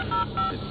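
Rapid electronic phone keypad tones in a Batman Arkham video game, two short pitched beeps in quick succession, close and clear over a steady background hum.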